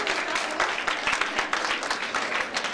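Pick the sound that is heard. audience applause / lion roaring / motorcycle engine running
audience applause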